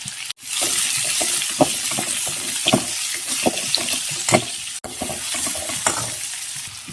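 Onions sautéing in a pan for a potato masala to serve with puri, sizzling steadily and loudly up close while a spoon scrapes and stirs in irregular strokes, with a brief cut near the start and another near the end.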